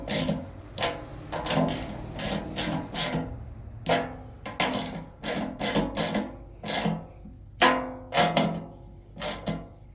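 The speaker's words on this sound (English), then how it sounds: "Tightening lug nuts." Repeated short ratcheting and scraping bursts come in uneven clusters as lug nuts are tightened on an in-tank fuel pump for an oval window gas tank. They sit close and fairly quiet, with no talk.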